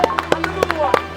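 Several sharp hand claps in a loose paired rhythm, close and fairly loud, made by a small group of guys during a playful vote, with a faint tonal background underneath.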